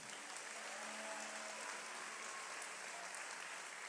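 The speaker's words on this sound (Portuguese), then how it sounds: "Você pode dar uma salva de palmas a Jesus." Congregation applauding Jesus at a church service, a faint, steady, distant wash of clapping held evenly throughout.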